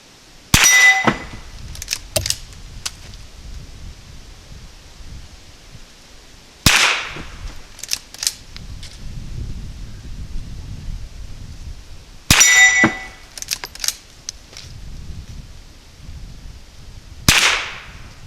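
Rifle bullets from a Henry Long Barrel Frontier strike steel plinking targets outdoors, four sharp ringing clangs spaced several seconds apart, each a crack followed by a brief metallic ring, with faint background noise between and no talking.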